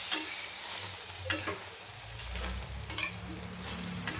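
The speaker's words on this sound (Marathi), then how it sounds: "आता यातलं पूर्णपणे पाणी आपल्याला संपेपर्यंत हे अशा पद्धतीने फ्राय करून घ्यायचे" Mutton boti pieces, coated in a garlic, coriander and ginger paste, fry on full flame while being stirred in a pan. There is a steady sizzle with clinks and scrapes of stirring at intervals.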